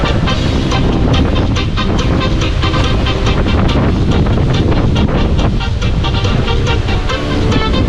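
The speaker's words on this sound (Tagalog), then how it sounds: "Grabe, ang lakas ng hangin!" Strong wind roars continuously into the microphone, a loud buffeting rush with gusty bursts and a constant low rumble.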